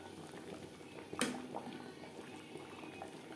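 A pot of mutton curry gravy with potatoes simmering on the stove, a soft continuous bubbling with one brief clink, faint and close, no talk.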